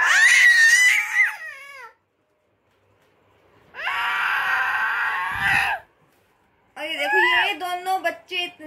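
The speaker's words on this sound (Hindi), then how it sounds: "बहुत ज्यादा चीखे ये दोनों बच्चे मारते हैं।" Two small children scream and shriek in three loud bursts with short silent gaps between them, the voices high, piercing and wavering, as in shrill indoor play.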